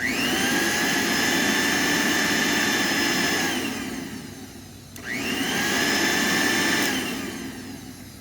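A Regina Electricbroom three-speed upright vacuum with a cracked housing runs loud and steady with a high whine, cuts off near the five-second mark, then spins back up and runs again.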